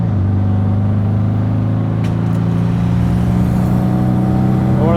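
A very original Porsche 356 Super 90 engine hums steadily from inside the cabin while driving, a loud continuous low drone with a slight rise in pitch toward the end.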